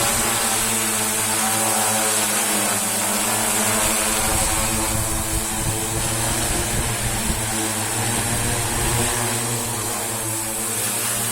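SIYI D6 drone propulsion motors and propellers climb under heavy load, a loud, steady high-pitched whine and buzz holding without a break, close and alone.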